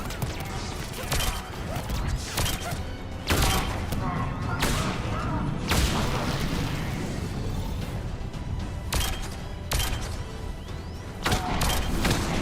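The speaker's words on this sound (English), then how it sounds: "I just switched to the pistol real quick." Rapid pistol fire in the Mass Effect 3 video game, with repeated sharp cracks and bursts spread across the stretch, mixed with impacts and thuds under dense battle noise.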